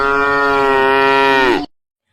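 One long, loud cow moo rings out in a children's theatrical fable. It holds steady for about a second and a half, then cuts off abruptly into silence.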